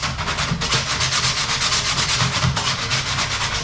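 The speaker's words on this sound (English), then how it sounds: "So what you want to do is take a little coarse sandpaper," Steady, rhythmic scraping of coarse sandpaper roughing up a jet sled hull, close and loud with quick back-and-forth strokes and no talking.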